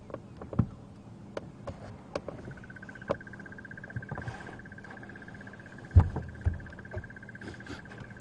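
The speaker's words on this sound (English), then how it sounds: "That is a crested barbet." A crested barbet on an early-morning safari drive keeps up a steady, sustained pulsing trill at moderate distance, with scattered clicks and knocks in the foreground.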